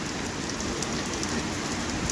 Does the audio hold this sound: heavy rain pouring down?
yes